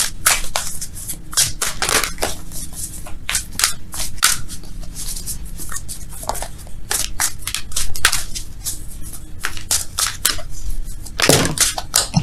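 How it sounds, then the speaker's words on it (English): Tarot cards are shuffled by hand in a rapid, irregular run of crisp riffles and card slaps, close and fairly loud, continuing for several seconds without speech. "Let's shuffle for real, though."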